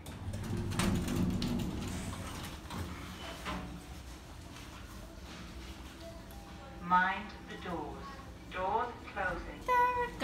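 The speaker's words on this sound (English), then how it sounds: "Doors opening." A Thyssenkrupp elevator at M&S Blanchardstown in Dublin slides its doors open and shut, soft mechanical rumbles mixed with automated announcement voices and people talking nearby.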